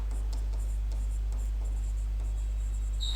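Marker or chalk writing on a classroom board during an English lesson, producing faint scratchy strokes over a loud, steady electrical hum, close and without talk.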